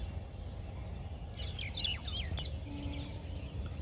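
A parrot gives a short run of sharp chirping calls near its nest, mid-distance over a steady low outdoor rumble, with a brief faint tone near the end.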